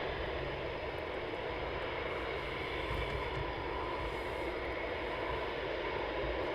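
A Eurofighter Typhoon jet taxis toward Runway 25 at RAF Coningsby, with a steady, loud engine roar and whine that stays continuous throughout.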